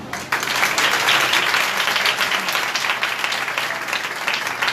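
A congregation at a Sunday service breaks into loud, sustained applause, a thick wash of many hands clapping that starts abruptly and holds steady to the end.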